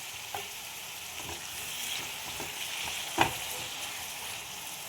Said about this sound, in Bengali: দেখো, এগুলো ভাজা হচ্ছে।